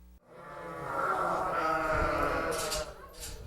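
A sheep on a university farm where a ewe gave birth to five lambs, one long wavering bleat close by, rising and holding for a couple of seconds.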